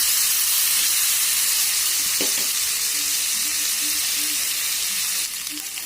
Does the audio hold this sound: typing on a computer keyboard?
no